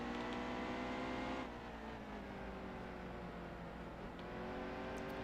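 A race car engine in the NASCAR Heat 2 video game holds a steady, high droning whine, then shifts down in pitch and continues at a lower, slightly quieter hum.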